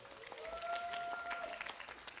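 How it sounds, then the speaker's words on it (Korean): Quiet, distant applause from a church youth-group audience at Gunsan Dream Church, clapping for the student performers; soft steady clapping with a faint tonal sound in the background. "우리 수고한 프로그 친구들 다시 한번 우리 박수 한번 부탁합니다."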